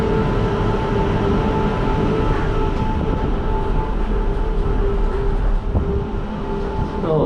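A Disney Skyliner gondola at Walt Disney World pulls away from the Caribbean Beach Resort station with a slightly choppy start, giving a steady loud mechanical rumble and hum with constant drone tones throughout.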